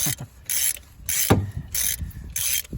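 A harmonic balancer puller works on a 2001 Toyota Camry, giving a series of rhythmic ratcheting clicks in regular bursts as the stuck balancer is drawn off, close and fairly loud.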